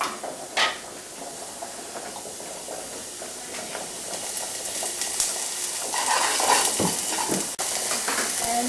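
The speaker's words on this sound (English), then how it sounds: "Then I'll sweat my onions." Onions sweating in a hot pan give a steady broadband sizzle and hiss throughout, growing slightly louder and fuller toward the end, with a few brief stirring clinks and scrapes over it and no talking.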